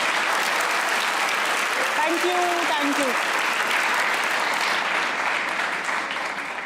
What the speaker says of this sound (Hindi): तालियां होनी चाहिए एक बार हिरा के लिए।